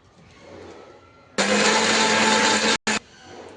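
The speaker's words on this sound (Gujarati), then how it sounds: "અહીં પાલક બફાઈ ગઈ છે, હવે એને પીસી નાખવાનું છે." A kitchen blender whirs loudly to grind boiled spinach for palak paneer, starting abruptly after quiet room noise, running steadily, then cutting out briefly and restarting before stopping.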